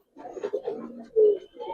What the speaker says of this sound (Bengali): হাতেই ডাকবে, পাগলা কবুতর পুরাই।